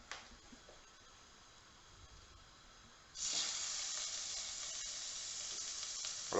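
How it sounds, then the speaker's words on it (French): Meat searing in a hot pan for a blanquette: a soft sizzle at first, jumping to a loud, steady, hissing fry about halfway through as pieces hit the oil, with no talking. "On va marquer la viande"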